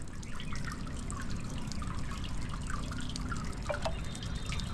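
Water trickles steadily from a spring in the Talaja caves, a constant close wash of running water with scattered small drips on top.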